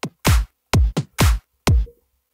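Clap and kick drum samples from a future bounce pattern in FL Studio, five loud punchy hits with deep booming low end and bright snap, irregularly spaced and ending in a short decay.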